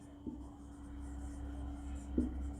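Pen strokes while a chemistry lesson on electrolysis is written out: two brief, faint scratches well apart, over a quiet, steady room hum.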